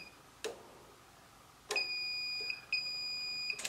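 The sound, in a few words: multimeter continuity beep while testing a furnace hot surface igniter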